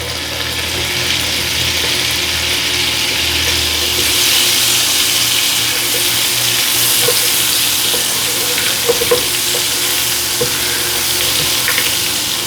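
Two tablespoons of unsalted butter sizzle and fry in a pan used for smothered pork chops, a steady loud crackling hiss with some stirring, no talking.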